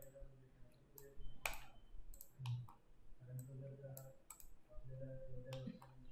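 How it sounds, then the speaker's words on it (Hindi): Computer mouse clicks used while working in Revit software, a handful of sharp, quick ticks scattered under someone talking quietly. "click on delete"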